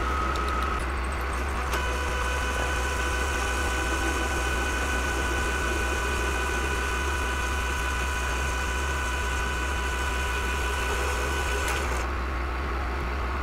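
A stable shop machine runs at about 300 RPM, a steady mechanical hum with a constant whine and light vibration, even and continuous with no talking.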